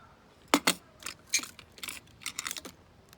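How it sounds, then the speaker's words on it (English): Scissors being picked up beside a chunky chenille blanket project, giving a few brief, close metallic clinks and clatters spread unevenly over a few seconds in an otherwise quiet room. "I'll grab some scissors."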